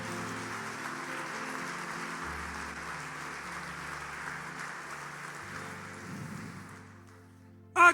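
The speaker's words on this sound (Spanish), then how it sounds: "Dale un fuerte aplauso al Señor" A church congregation applauds during a worship service, a steady wash of clapping held for several seconds over sustained keyboard tones, then fading before a sharp loud burst at the very end.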